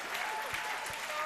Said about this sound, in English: clap for that, clap for that.